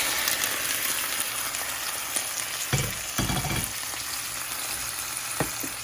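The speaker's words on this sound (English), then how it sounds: "You're gonna hear a nice sizzle," Shrimp sizzle and crackle steadily in a pan with browned garlic, a loud continuous fry with occasional bursts of popping.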